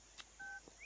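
Telephone keypad dialing tones: a few short, faint electronic beeps in quick succession, heard alone in a quiet room.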